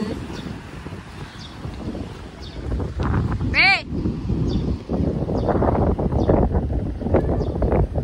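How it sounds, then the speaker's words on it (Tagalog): Steady wind rushes and buffets the microphone by the sea near HKU in Hong Kong, with voices talking faintly underneath throughout. "mahangin."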